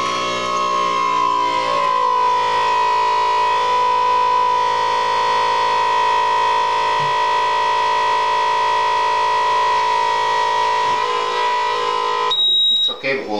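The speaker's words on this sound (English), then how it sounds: "I'm going to go ahead and just energize the pump, put some pressure on them" Fuel injector cleaning machine pump energized to pressurize the injectors, a loud steady tonal whine holding constant for about twelve seconds before cutting off abruptly.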